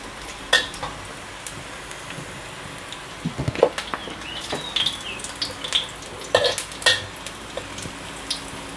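Garlic frying in a pan, with a steady sizzle running throughout and intermittent stirring scrapes and clinks on top, close and fairly loud.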